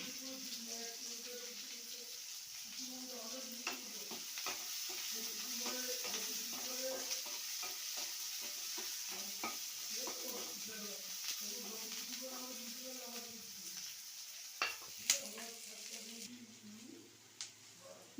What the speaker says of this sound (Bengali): মশলাগুলো এই যে আমার সব ভাজা হয়ে গিয়েছে